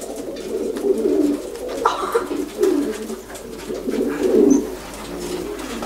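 Racing pigeons coo in low, soft, repeated murmurs at close range inside a loft, with overlapping calls rising and falling across a steady background hum.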